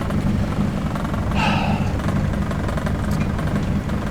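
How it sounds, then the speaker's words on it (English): A Honda Civic engine idles roughly at about 650–700 rpm while running lean, with a steady low rumble and uneven, lumpy pulses, close by, with a brief higher whine partway through. "it's running like super lean. And it's idling rough too."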